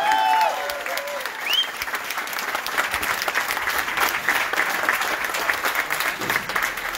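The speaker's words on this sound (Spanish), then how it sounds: "¡Fuerte el aplauso!" Sustained applause from a large crowd at a political party event, steady and dense throughout, with a few scattered whistles near the start.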